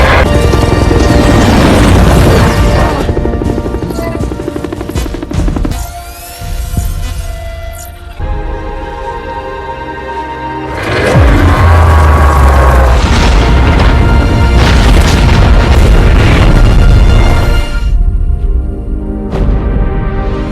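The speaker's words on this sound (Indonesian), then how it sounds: "Axel langsung meledakkan dirinya." Film explosion of a robot dog: heavy booming blasts with deep rumbling and throbbing low end, loud and sustained, dipping into a quieter stretch before a second massive roaring boom swells and slowly decays.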